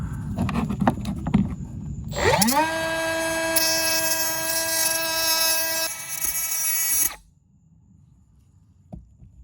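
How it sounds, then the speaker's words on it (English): A power tool grinds the end off a part during work on a 1983 Porsche 944. After some clatter it spins up into a loud, steady high-pitched whine for about five seconds, then cuts off abruptly into quiet. "I'm just gonna grind the end off it"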